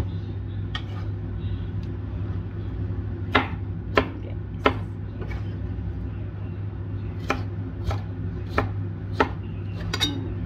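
Tomatoes being chopped with a knife for an Ilocano vegetable salad with mango and bagoong, roughly a dozen sharp, distinct cutting-board knocks spaced irregularly over a steady low hum, with no talk.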